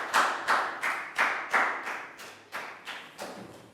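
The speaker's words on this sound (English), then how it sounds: "and a big round of applause too" A few students clapping in a classroom, about ten separate distinct claps spaced roughly a third of a second apart, close and moderately loud with no talk over them.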